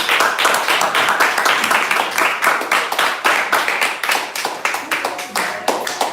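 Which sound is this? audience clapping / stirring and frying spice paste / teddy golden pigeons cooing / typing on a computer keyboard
audience clapping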